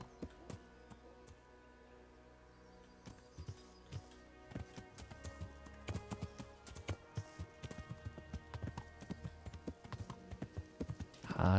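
A ridden horse's hooves clip-clop steadily in Kingdom Come Deliverance, growing busier and louder halfway through and keeping up a quick, regular beat under faint game ambience.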